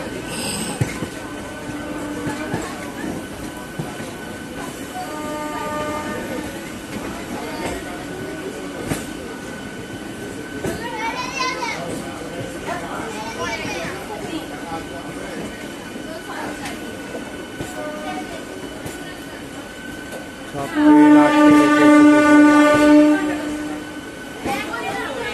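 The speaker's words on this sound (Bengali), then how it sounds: "এই ট্রেনে করে আমি যাচ্ছি" A moving passenger train rumbles along in a steady, continuous clatter, with a loud squealing burst of wheels on rails near the end, heard from on board.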